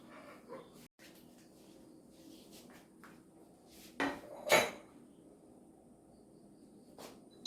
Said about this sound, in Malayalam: ഇളക്കി കൊടുത്തോണ്ടേ ഇരിക്കണം